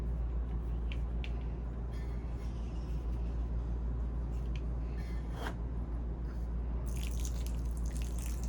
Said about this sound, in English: Just put a little bit of water.